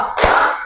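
A single sharp hand clap in an Indonesian counting clap game, rung out alone in a room with a short echo tail.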